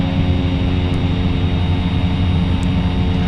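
A Cessna Caravan turboprop in X-Plane 11 drones steadily as the throttle is pushed forward on a night flight, its engine noise a constant, dense roar with no pauses or voices.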